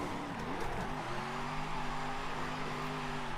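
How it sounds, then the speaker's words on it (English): A classic Ford Mustang V8 in Forza Horizon 5 holds a steady, moderately loud engine drone, with its pitch rising slightly and then holding even. "the car sounds amazing because it's a Mustang with a classic old V8"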